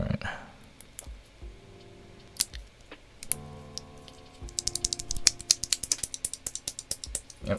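Keys tapped on a NuPhy Air96 low-profile 96% mechanical keyboard, a few scattered clicks and fiddling sounds giving way to a quick run of crisp, close keystrokes at the end, with no talking.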